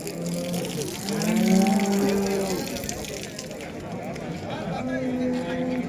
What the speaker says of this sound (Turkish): Buzağlı inek.